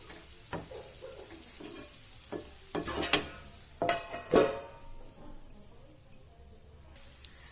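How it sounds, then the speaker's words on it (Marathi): A spoon scrapes and stirs Khandeshi zunka made with chival greens in a kadhai, with irregular close scrapes and clinks over a faint background sizzle and no voices. "तो असा कढईला जर लागला ना खालून, तर खरडून काढायचा"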